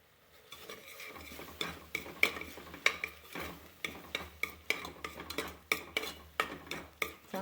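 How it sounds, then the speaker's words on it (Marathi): A spoon scraping and clinking against a cooking pot as masala with garam masala and turmeric is stirred for egg khichdi, a steady rhythm of sharp metallic strokes over a faint sizzle, close and clear. "आणि आता चांगलं हलवून घेते."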